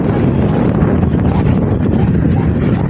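Strong wind buffets the microphone in a loud, constant roar with gusty low-frequency rumble.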